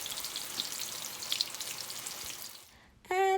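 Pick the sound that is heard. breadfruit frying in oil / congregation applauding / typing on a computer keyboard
breadfruit frying in oil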